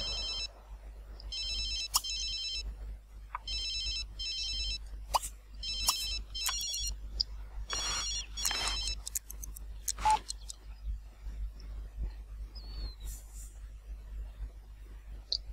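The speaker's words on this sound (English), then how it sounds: "Should probably answer that phone" A telephone rings in the video game The Sims 3 with repeated short electronic trilling bursts in an uneven rhythm, over a low hum and scattered clicks of game sounds.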